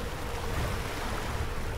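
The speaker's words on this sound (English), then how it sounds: "We still got some pretty rough seas" Rough sea waves and wind rush continuously in the Sailaway sailing simulator during an ocean race leg from Lisbon to Cape Town, a loud, dense, unbroken wash with no distinct breaks.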